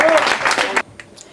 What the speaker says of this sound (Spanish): Joana Bravo, un fuerte aplauso, un fuerte aplaudiment.